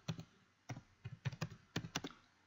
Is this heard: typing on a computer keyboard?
yes